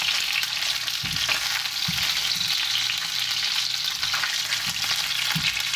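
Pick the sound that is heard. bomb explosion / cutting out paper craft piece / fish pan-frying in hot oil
fish pan-frying in hot oil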